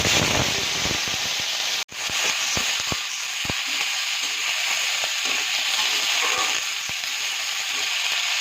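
Steady, loud sizzling of food frying in a pan, with a continuous hiss and scattered crackles and pops throughout, plus a brief clatter near the start.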